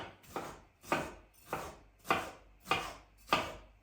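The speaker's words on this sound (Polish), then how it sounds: "i paprykę kroję w kostki." A knife chops bell pepper into cubes on a board, six sharp, evenly spaced cuts about every 0.6 seconds, close and clear with nothing else heard.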